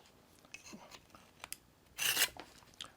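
A knife is drawn across the coarse slot of a Smith's Jiffy Pro sharpener. A few faint scraping strokes are followed by one louder, brief rasping pull, with quiet pauses between them and no voices.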